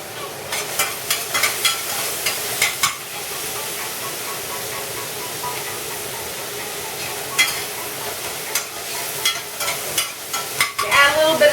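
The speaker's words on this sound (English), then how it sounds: "The salt will caramelize the onions" Onions sizzling and frying in a pan with a bit of salt and pepper, a steady hiss broken by repeated scraping stirs, close and fairly quiet, with no talk.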